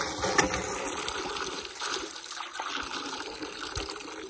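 Water gushing from a borewell hand pump in a rural spot, a loud continuous splashing rush with a brief metallic clank near the start.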